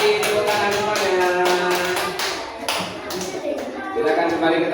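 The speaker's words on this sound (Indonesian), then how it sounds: "Tepuk tangan semuanya." A classroom of students claps together in brisk, steady applause that runs throughout, loud and close, with voices mixed in.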